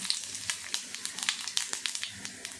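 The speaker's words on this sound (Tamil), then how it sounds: "எண்ணெய் காஞ்சிச்சு கொஞ்சம் சோம்பு போடலாம்" Fennel seeds sizzle and crackle in hot cooking oil, with quick irregular pops over a steady frying hiss. The sound is close and moderately loud, with no talking.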